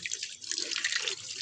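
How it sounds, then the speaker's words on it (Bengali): A kitchen tap runs and drips while ingredients are washed for cooking, a close, steady splash of water in a sink lasting a brief moment. "এখন যে রান্না বান্না করবো, ওর জন্য সব ধুয়ে পাকড়ে নিচ্ছি"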